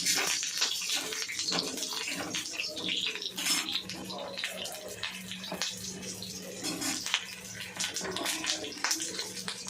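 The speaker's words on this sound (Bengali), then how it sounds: "আলুগুলো একটু ভেজে নেব।" A steady, bright hiss of long-cut, skin-on potatoes frying in oil, with occasional soft clatter and brief quiet speech.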